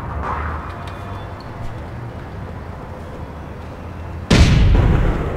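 After a stretch of low, rumbling ambience, a grenade in APB Reloaded goes off with a sudden, loud close blast whose broad roar lingers to the end.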